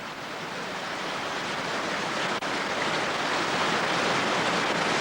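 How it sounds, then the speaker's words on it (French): Flood water rushing past a campsite in Spain, heard from inside a caravan: a loud, steady broadband roar of torrent and surf-like wash that holds constant throughout, with no voices. "Un touriste filma le début de l'inondation par la fenêtre de sa caravane."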